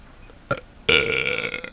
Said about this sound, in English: the burp of a true champion.